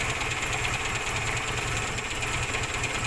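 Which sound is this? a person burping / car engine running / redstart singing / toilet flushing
car engine running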